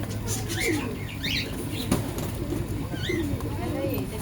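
Pigeons in a shop flap their wings in repeated bursts and coo softly nearby, while people's voices murmur in the background.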